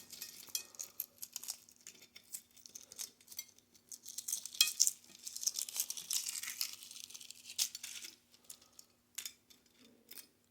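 Shells crackle and tear as they are peeled off hard-boiled eggs, a run of small, close, irregular crinkling and snapping bursts with brief pauses between them, quiet overall and with no talking.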